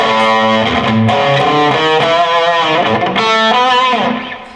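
Electric guitar riffing through a fuzz distortion pedal (Benson Stonk Box) with heavy, buzzy distortion, sustained chords and a gritty, sizzling edge, loud and continuous throughout.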